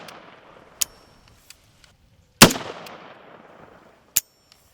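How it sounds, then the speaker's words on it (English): Suppressed 7.62 Warthog rifle fitted with an AB suppressor firing a few sharp, spaced shots, one much louder than the others, each a short crack with a brief tail over near silence. "We're going to shoot it on the setting and then bump it up as necessary until we get 3 rounds of cycling."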